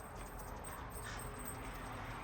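Puppies whimper and yip while play fighting outdoors, a soft, steady run of small whines and squeaks with no voices over them.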